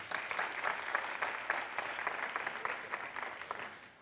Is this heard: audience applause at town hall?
yes